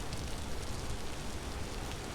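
Rain falling in the video game Vintage Story, a dense, even hiss of steady downpour that fills the whole moment with no voices or other distinct sounds.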